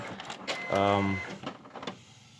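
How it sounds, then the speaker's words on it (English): A Canon inkjet printer with a hidden paper jam and error 6000 powers on, giving mechanical clicks and a brief whirring hum, with voice-like sounds over it. "Just turn the printer on and we'll see why it's doing that."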